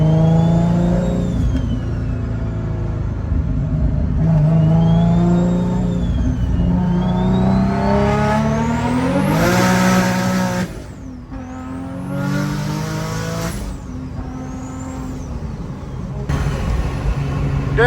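A 700 whp turbocharged Infiniti G35 coupe engine revs hard and loud up close, rising in pitch through several strong pulls with a brief drop around the middle before climbing again.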